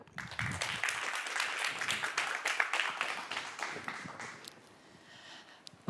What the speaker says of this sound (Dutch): Dus heel graag een heel warm applaus voor onze eerste spreker.